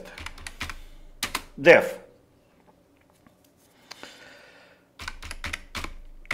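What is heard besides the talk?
typing Python test code on a computer keyboard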